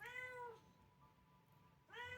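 A house cat meows twice indoors, one drawn-out meow at the start and another near the end, fairly close and clear against a quiet room with no talk.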